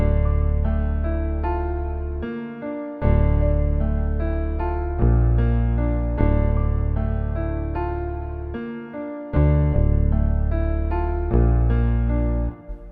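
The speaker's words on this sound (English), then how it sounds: "With the piano and the sub bass, sounds like this together" Piano chords and a Rickenbacker-style sub bass play together in FL Studio, the deep bass following the root notes under sustained, evenly repeating chords at a steady loud level, with no voices.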